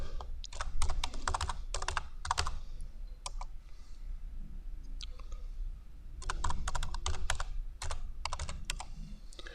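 Computer keyboard keys typed in quick bursts of clicks while entering a username and password, close and clear, with short pauses between runs and no speech.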